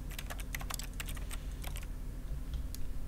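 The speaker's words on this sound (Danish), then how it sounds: "Jeg har en stol, der jeg kan klikke på, så det lyder som om det er et tastatur" Clicking on a chair in The Stanley Parable video game sets off a quiet, rapid run of keyboard typing clicks, irregular and close, that thins out toward the end.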